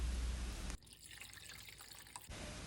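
A short liquid pour as half a bottle of soju goes into a pot with astragalus root and whole peppercorns for Korean galbitang, a close, quiet trickling splash lasting about a second and a half.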